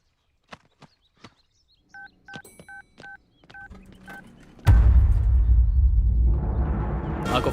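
A telephone is dialed: about ten short, evenly spaced keypad tones beep among soft clicks and handling sounds, then a loud rushing, noisy burst takes over for the last few seconds.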